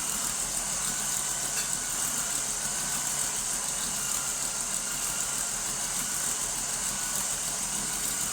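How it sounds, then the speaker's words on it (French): An electric hand mixer whisks génoise sponge batter with a constant, loud motor whine and whir. It runs steadily without pause, and no voices are heard over it. "Je mets le fouet du batteur. Tac, je mets en route, je mets pas trop fort au début et j'accélère."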